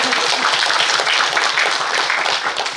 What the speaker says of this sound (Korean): 박사님한테 큰 박수 좀 부탁드리겠습니다.